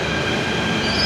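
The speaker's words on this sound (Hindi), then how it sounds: "अब हम आ चुके हैं सहाड़ा मेट्रो स्टेशन" A Delhi metro train at a metro station makes a loud, steady roar and rumble of wheels on rails, with a faint high squeal. No talk is heard.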